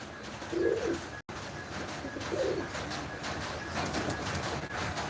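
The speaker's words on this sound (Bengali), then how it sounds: "দেখো একটা আমার খুব শখের কবুতর" A pigeon gives two low, soft coos a couple of seconds apart against faint background noise.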